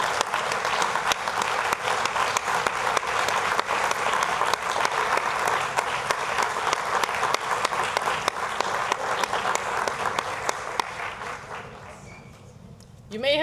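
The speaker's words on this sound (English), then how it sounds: "please stand so that we can give you a round of applause" An audience in a school awards ceremony applauds state champion teams with sustained loud clapping that fades out near the end.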